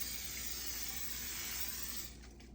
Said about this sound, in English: I'm going to lightly spray the top of the griddle.